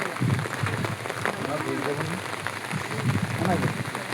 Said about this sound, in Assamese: ইমান ডাঙৰ বৰষুণ আহিছে দেখিছেনে